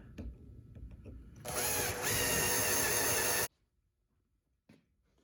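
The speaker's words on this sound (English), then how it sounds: "let's use a small bit just to get a pilot hole started" A small power drill whines steadily for about two seconds while boring a pilot hole during a fuel kit installation on a 1996 Ford F-250, with handling clicks before it and a quiet knock after.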